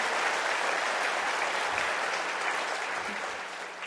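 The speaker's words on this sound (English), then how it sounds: "please give another round of applause for all of our finalists" A school awards ceremony audience gives a dense, steady round of applause for the finalists. The clapping is loud and continuous and tapers slightly near the end.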